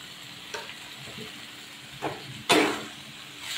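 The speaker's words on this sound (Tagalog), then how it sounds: "Halu-haluin lang natin. Lagyan na natin siya ng asin." Food seasoned with salt and pepper fries in a pan under a steady hiss, while a spoon scrapes and stirs in a few distinct strokes, the loudest coming near the end.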